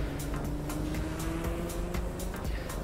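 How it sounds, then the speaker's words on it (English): A car engine in the Project Cars 2 racing game drones steadily at low volume, with a sustained rumble and faint tonal whine running under a busy background. "Can you hear the car?"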